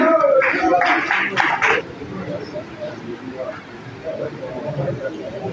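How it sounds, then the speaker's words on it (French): An audience at an agricultural kit presentation briefly applauds its host with a short burst of clapping that fades within about two seconds into crowd chatter and murmuring. "Notre hôte, merci de l'applaudir."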